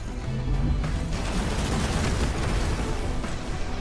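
An explosion in the mech strategy video game Phantom Brigade, a dense, sustained roar of blast and rumbling debris that fills the whole stretch at steady loudness, with no voices over it.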